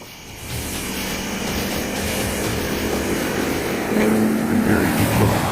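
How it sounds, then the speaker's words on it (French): Car engines from oncoming traffic at night on a bridge grow from a distant rumble into a louder, nearer drone as a vehicle approaches, with a steady broadband road noise throughout. "Ce bruit de moteur qui approche n'est que de la circulation venant en sens inverse."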